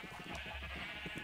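Sheep bleating in the Minecraft video game while being sheared on a survival server, a few short bleats over a steady hum of game background sound, no talking.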